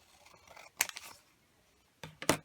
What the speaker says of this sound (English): I need to cut the sides off of this too.